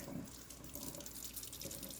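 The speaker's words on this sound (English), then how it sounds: "Obviously, first step is turn on the water." Water runs from a tap during hand washing, a soft continuous splashing into a sink with faint drips, quiet and close, with no talking.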